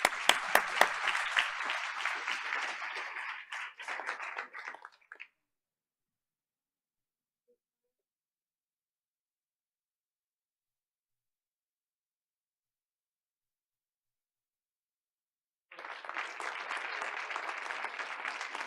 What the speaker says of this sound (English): let's hear it for Eric Brown